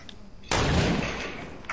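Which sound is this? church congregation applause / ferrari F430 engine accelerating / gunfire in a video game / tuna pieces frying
gunfire in a video game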